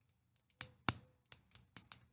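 Scissors-type cigar cutter snipping a cigar, a run of sharp close clicks and snaps in a quiet room, with one louder cut near the middle and several lighter clips around it.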